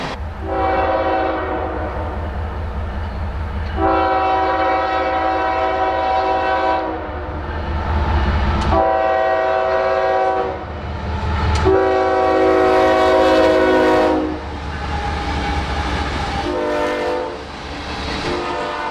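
A freight train near Folkston sounds its horn in several long, loud blasts separated by short gaps, over a steady low rumble of the passing train.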